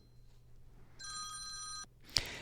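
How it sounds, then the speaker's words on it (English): Telephone ringing in a classroom: a single bright electronic ring bursts out for about a second, fairly close and loud, over a quiet room with low hum, followed by a sharp click. "And the phone rings in the middle of class."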